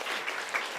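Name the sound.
church congregation applauding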